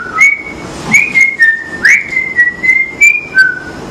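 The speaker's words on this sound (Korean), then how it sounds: "휘파람으로? 휘파람." A person whistles a slow, bright melody up close, a series of sustained clear notes with short breaths between phrases.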